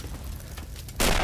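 Grenade exploding in a multiplayer combat game, a sudden loud boom hitting near the end after a second of rumbling battle noise and distant gunfire.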